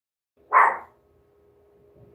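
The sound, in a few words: dog barking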